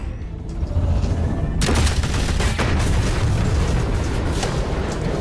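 Gunfire in the Batman Telltale video game, a dense, loud burst of shots and booms that erupts suddenly and continues as a sustained roar with no clear gaps.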